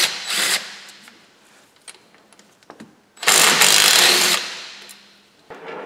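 A power tool with a 10 mm socket drives out the mounting bolts of an EGR valve on a Cummins 6.7 diesel in two loud bursts of whirring, separated by a quieter stretch of small clicks and handling noises.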